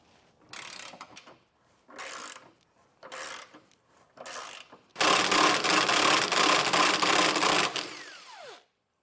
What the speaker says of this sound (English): It's just going to be 2 bolts here, and a 15mm socket should accomplish that.